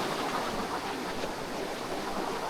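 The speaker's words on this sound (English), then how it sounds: "That water's sweeping around here." Water rushes steadily around rocks near a waterfall cave, a loud, continuous broadband wash with no voices.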